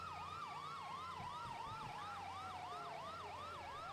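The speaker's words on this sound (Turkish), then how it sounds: "Tamam, siren kapatalım." Police car siren in an emergency-services role-play video game, wailing steadily up and down in a repeating cycle, loud and close throughout with engine drone beneath and no talking.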